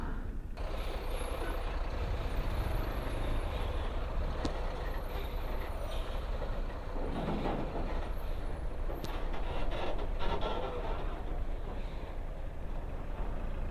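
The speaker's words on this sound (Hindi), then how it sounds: "अभी सारी गाड़ियाँ पार होगी तब हम निकलेंगे" Heavy trucks and other vehicles crawl past in a highway traffic jam, a continuous loud rumble of engines with wind buffeting the microphone, hissing air brakes and faint reversing beeps.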